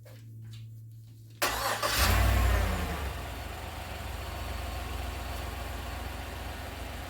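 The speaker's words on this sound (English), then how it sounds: "Start the engine." A 2016 GMC Acadia, just fitted with new spark plugs, cranks and fires up close by, surging loudly before settling into a steady idle rumble.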